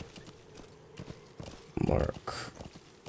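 Horse hooves clip-clopping in Metal Gear Solid V: The Phantom Pain, a steady walking rhythm of hoofbeats with a snort or whinny burst midway, and someone talking over it.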